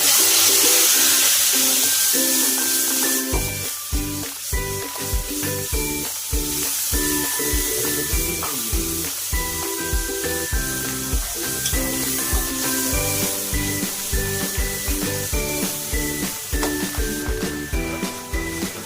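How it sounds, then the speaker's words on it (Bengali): A paste of ginger, garlic, onion and tomato sizzles steadily in a pan for a Bengali vegetable bhuna. The frying hiss is loud and continuous, with rhythmic stirring taps and clinks and music playing underneath. "আদা, রসুন, পেঁয়াজ আর টমেটো, সেই পেস্টটা দিয়ে দিচ্ছি।"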